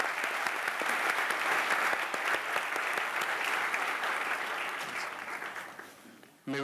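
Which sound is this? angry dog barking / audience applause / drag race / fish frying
audience applause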